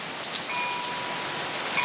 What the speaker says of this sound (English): Ooh, is it getting rain on us? Yes. Getting rain on us.